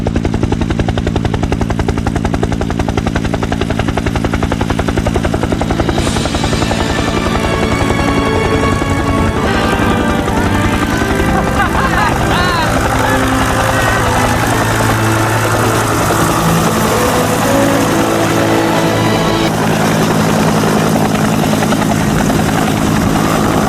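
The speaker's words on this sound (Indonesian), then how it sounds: "suara helikopter memecah kesunyian di lokasi bangkai pesawat" A rescue helicopter's rotor thumps and whines steadily and loudly throughout, its engine drone dominating with no voices.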